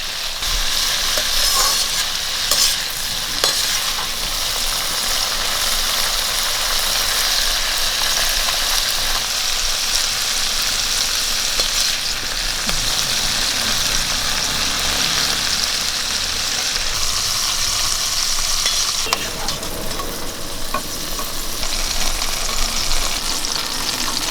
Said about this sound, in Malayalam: ഇനി ഇഞ്ചി വെളുത്തുള്ളി പച്ചമുളകെല്ലാം ഒന്ന് വഴറ്റിയെടുക്കാം